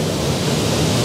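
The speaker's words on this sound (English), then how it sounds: "I'm set up, pointing at the waterfall." Waterfall at the Falls of Acharn roars as a dense, steady broadband rush, loud and close with no pauses, heard alone without talk.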